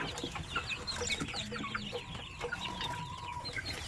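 Chicks and chickens cluck and chirp in a simple low-budget brooder, a steady overlapping chatter of peeps with some deeper clucks, close and fairly loud, without any voices.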